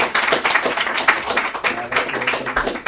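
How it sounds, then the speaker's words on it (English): Audience applause for a presenter at a salespeople meetup, a busy patter of hand claps running throughout, fairly close and steady, with some voices mixed in. "Round of applause for Maaike, thanks guys"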